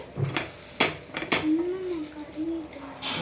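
A homemade pancake is flipped in a pan, giving a few short scraping clinks of the spatula against the pan and then a soft sustained hum, fairly close.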